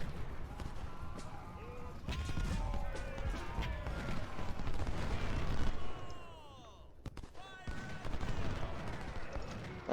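Canister artillery volleys boom repeatedly in a Civil War battle in the Ultimate General: Civil War game, a dense mix of cannon blasts and crackling musketry with a brief lull before firing resumes.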